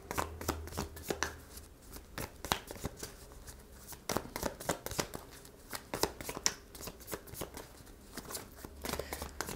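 Tarot cards shuffled and pulled by hand, a dense run of quick papery flicks and snaps in uneven bursts, close and fairly quiet, with no talking.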